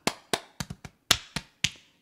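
Body percussion clapped and slapped for a live-looping rhythm on a Boss RC-600 loop station, eight crisp, close hits in a syncopated pattern with quick double strikes and short gaps, no talking.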